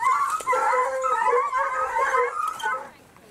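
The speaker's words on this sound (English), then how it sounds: "Scenting blood, a pack of hounds close in on their prey." A pack of hounds chasing a fox gives tonal, wavering howls and yelping bays that overlap and continue steadily for about three seconds before fading.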